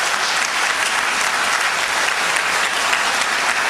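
Audience applause at a poetry recital in Bahrain, steady and dense with no breaks, loud and close, without voices above it.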